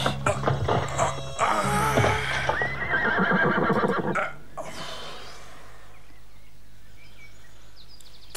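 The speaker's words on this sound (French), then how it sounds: "Allez, encore mes braves chevaux" A horse whinnies and snorts loudly over clattering movement, then everything drops to a quiet hiss.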